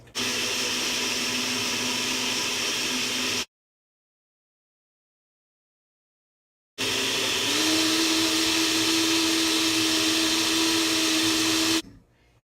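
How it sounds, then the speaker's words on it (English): A blender on its highest setting purees almonds for almond milk in two long stretches separated by a few seconds of silence, a steady loud whirring grind with a sustained motor whine. "It's on about the highest setting that I get with this blender"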